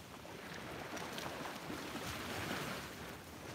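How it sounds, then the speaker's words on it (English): Small ocean waves wash onto a beach at sunrise, a soft, steady surf hiss with gentle swells and no voices. "And our beautiful water with the little waves this morning"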